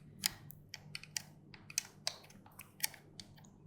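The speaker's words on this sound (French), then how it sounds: "c'est assez relaxant quand on écoute quelqu'un qui tape sur son clavier." Close, quiet typing on a computer keyboard, irregular key clicks in a loose rhythm with no voices.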